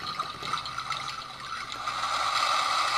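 A Timex T122NW digital alarm clock plays its brook nature sound: a continuous, slightly wavering electronic trickle of running water, steady and close with no voices.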